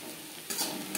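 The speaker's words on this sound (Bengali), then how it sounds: "কাঁকরোলের সাথে নারকেল ও কাঁচা লঙ্কা বেশ ভালো করে মিক্স করে দেবো।" Teasel gourd with coconut and green chili is stirred in a frying pan, a brief scrape and sizzle that sharpens halfway through, close by and fairly quiet.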